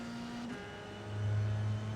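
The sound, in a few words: Dallara F3 race car engine accelerating in iRacing video game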